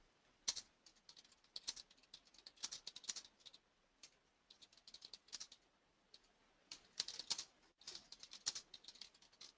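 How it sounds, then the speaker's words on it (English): Fingers type on a computer keyboard in irregular bursts of close, crisp key clicks, stopping briefly now and then and going on for several seconds with no talking. "sorry, I can't type and talk at the same time."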